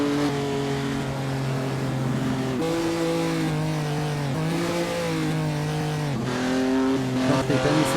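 A 1948 race car engine in Assetto Corsa at the postwar Prix de Berne drones loud and steady throughout, its pitch rising and falling as the driver shifts gears and changes speed, with no talk over it.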